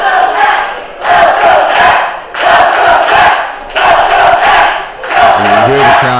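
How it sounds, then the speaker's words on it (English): A wrestling crowd at a UCW Heavyweight Championship match chants loudly in rhythmic waves, roaring phrases that rise and fall about once every second or so, filling the arena up close. "You hear the crowd here."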